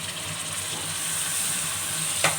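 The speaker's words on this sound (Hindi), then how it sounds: "अदरक को मैंने अच्छे से भून लिया है। अब मैं इसमें टमाटर ऐड कर रही हूँ" Tomatoes hit a pan of fried ginger while cooking a mutton paya curry, setting off a loud, steady sizzle and hiss with a brief sharp crackle near the end.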